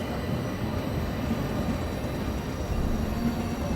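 Orient Express luxury train departing, a steady, continuous low rumble of rolling railway carriages close by, with no distinct horn or whistle.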